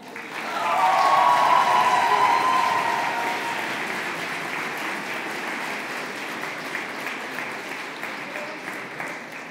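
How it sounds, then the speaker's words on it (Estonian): A debate tournament final audience applauds a competing team, with loud, dense clapping that swells in the first seconds and then holds steady before tapering slightly, crowd heard indoors. "teeme palun ühe suure aplausiga teisele finaalis väidelnud võistkonnale"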